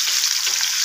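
Onions and potatoes fry in a pan for a Spanish omelette, giving a steady loud sizzle that runs without a break through the short moment.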